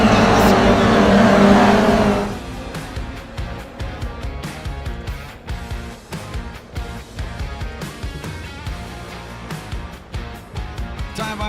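Race cars in a GR Cup sim racing game race start, a loud massed engine roar easing into a continuous busy drone of revving cars, with a voice talking over the pack.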